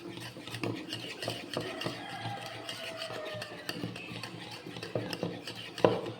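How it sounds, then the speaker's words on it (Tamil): A whisk beats yogurt in a bowl to break up lumps, giving steady close scraping and clinking strokes with a few sharper knocks on the bowl, no talk. "இப்போ இந்த விஸ்கால கட்டி இல்லாத நம்ம இதை நல்லா இது பண்ணிக்கணும்"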